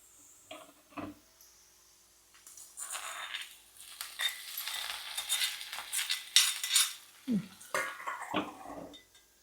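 A hot, sizzling spice tempering for broken-egg curry pours into a clay pot with a burst of hissing and clatter, then the lid knocks shut, close up with no voices.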